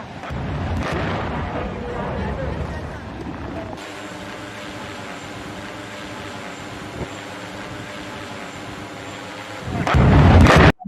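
Explosions blow up a settlement: heavy, loud blasts and rumbling at the opening, a quieter sustained roar in the middle, then another powerful close burst near the end that cuts off abruptly.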